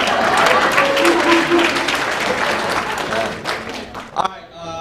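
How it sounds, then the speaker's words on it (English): An audience at a community event in a performing arts center claps for a doctor about to host table trivia, a dense burst of applause that thins out toward the end, with a few voices and cheers under it. "Yeah, you can clap."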